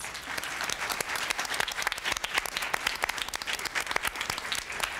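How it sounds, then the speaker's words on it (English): An audience applauding panelists at a Women's History Month panel discussion, many hands clapping together in a dense, continuous burst of moderate loudness. "Let's give our panelists a round of applause."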